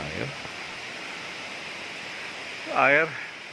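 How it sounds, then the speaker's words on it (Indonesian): Water rushes from a waterfall onto piled rocks at Curug Payung in Kuningan, a steady broadband roar without a break. A voice briefly sounds over it at the start and again near the end. "air mengalir dari atas, mungkin ke sini kali ya"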